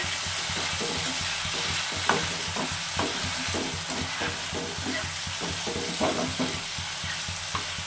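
Onion and garlic masala for an amudi fish curry sautéing slowly in oil, with a steady close sizzle and repeated scraping stirs of a spoon against the pan.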